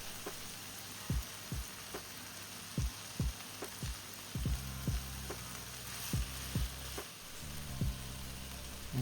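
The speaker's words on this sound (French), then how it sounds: "On va faire cuire ça encore un tout petit peu, histoire que ça prenne encore un petit peu plus de couleur, que ça caramélise un peu plus" Rehydrated soy balls caramelizing in a hot pan, giving a soft steady sizzle with scattered sharp pops and taps from stirring spaced every half second or so.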